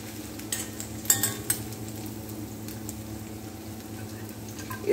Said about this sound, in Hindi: इसमें गरम मसाला डालेंगे और इसको थोड़ा सा घोल लेंगे।